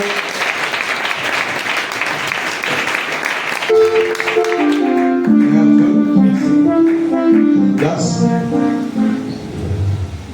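A church congregation applauds loudly at a testimony service for a few seconds, then the clapping gives way to sustained tonal music with a voice over it.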